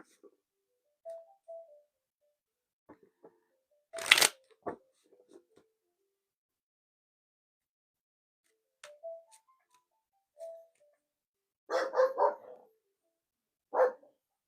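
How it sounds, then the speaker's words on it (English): Dogs barking and snarling at a squirrel outdoors: a few short, sharp barks arrive in scattered bursts with long quiet gaps, one loud near burst and a quick cluster toward the end, with some faint voice-like sounds between them. "I know that bark and snarl all too well."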